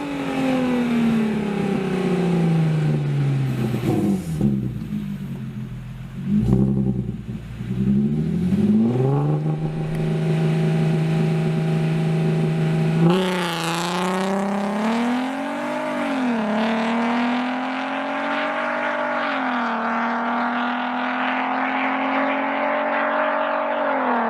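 Audi TT Mk1 with the 3.2 VR6 engine, heard close and loud as it revs up and down through repeated swells before settling into a steady, rising engine drone, with no one talking.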